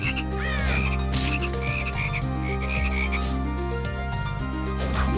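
A horde of frogs croaking in the game Castlevania: Portrait of Ruin, regular repeated croaks layered over constant in-game music, loud and sustained, no voices.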